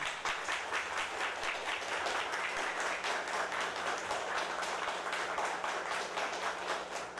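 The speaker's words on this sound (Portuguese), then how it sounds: "Vamos aplaudir o Santo Evangelho." A church congregation applauds during a diaconal ordination Mass, with dense, steady clapping that stays loud and continuous for about seven seconds.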